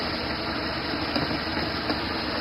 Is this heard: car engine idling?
yes